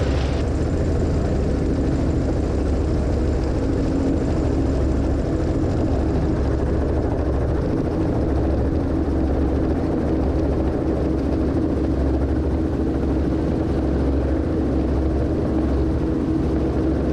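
A helicopter flies near gross weight on a training flight, heard from inside. A loud, continuous rotor and engine drone with a deep low throb holds steady throughout, with no talking.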